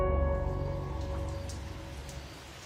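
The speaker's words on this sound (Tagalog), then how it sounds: "mas lumakas pa ang ulan" Steady rain pours down at night during a blackout, a dense even hiss of drops on surfaces with a low hum beneath, gradually easing slightly in loudness over a few seconds with no voices.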